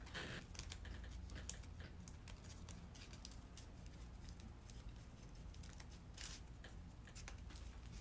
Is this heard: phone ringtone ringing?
no